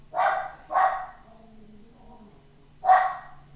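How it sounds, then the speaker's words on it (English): A dog barks three times, two quick barks followed by a third after a pause, moderately distant in an indoor room. "There's my dog talking to us in the background."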